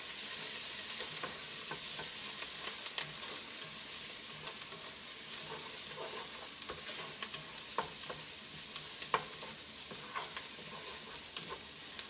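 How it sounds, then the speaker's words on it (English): Onions, garlic and green peppers sauté in a hot pan with a steady, quiet sizzle and scattered pops and crackles, no voices. "leave them in there, saute maybe 30 seconds, maybe 60 seconds"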